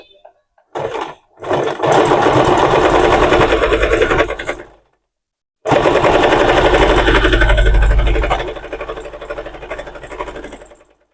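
A sewing machine double-stitches a Sabyasachi blouse in two loud bursts of steady running, with a short pause between them and a lower, slowing hum at the end.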